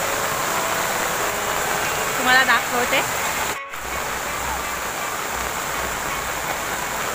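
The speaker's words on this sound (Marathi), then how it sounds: "खूप जोरात पाऊस येतोय" Heavy rain pours down in a dense, steady roar that fills the whole clip, with a short horn-like toot in the middle and a brief spoken phrase over it.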